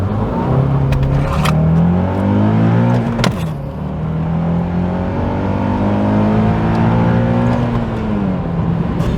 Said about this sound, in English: So first, here's a clip of what the car sounds like inside.